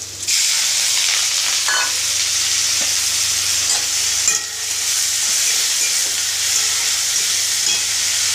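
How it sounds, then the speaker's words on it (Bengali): Fried moong dal goes into hot oil with whole cumin and a bay leaf, sizzling in a loud, continuous, close hiss that holds steady throughout, with occasional faint stirring. "দিয়ে দেবো ভেজে রাখা মুগের ডাল"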